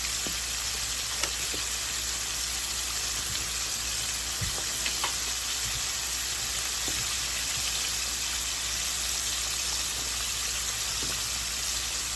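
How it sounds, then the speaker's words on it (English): Chicken pieces for honey garlic parmesan fried chicken frying in hot oil, a steady dense sizzle and crackle running throughout with occasional small pops, close and continuous with no talking. "Just sit here and just, let them fry."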